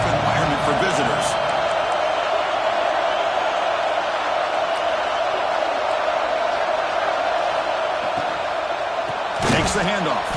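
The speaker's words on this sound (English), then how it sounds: "Listen to the crowd energy here in the early going." A college football video game stadium crowd roars as a steady, dense wash of cheering through the whole stretch, with a brief louder swell near the end.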